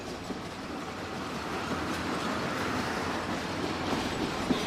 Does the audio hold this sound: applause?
no